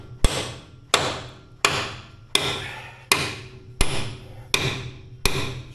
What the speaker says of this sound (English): Swing a hammer this much.